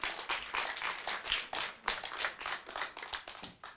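A group claps together in a lively, uneven burst of applause that holds steady for a few seconds without talking.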